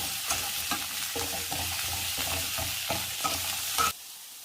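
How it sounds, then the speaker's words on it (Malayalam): Raw papaya sautéing in hot coconut oil makes a continuous sizzle, broken by regular scraping strokes of a stirring spoon, before the sizzle cuts off sharply near the end. "വെളിച്ചെണ്ണ ചൂടായിലേക്ക് കപ്ലങ്ങ ഇട്ടൊന്ന് വഴറ്റിയെടുക്കണം."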